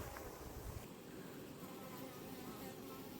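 Honeybees crawling over a beehive fill the air with a steady, close buzzing drone that holds at an even level throughout, with no talk over it.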